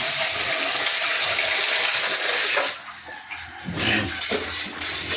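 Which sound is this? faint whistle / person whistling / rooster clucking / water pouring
water pouring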